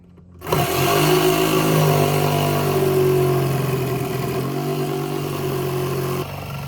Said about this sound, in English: now we take the jigsaw and we cut that section